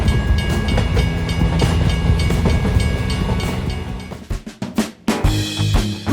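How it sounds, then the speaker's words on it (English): A model train on a miniature road-construction layout rumbles steadily and loudly, then passes through a tunnel, its sound breaking into uneven clicks and gaps before returning; no voices. "A train is about to pass through the tunnel."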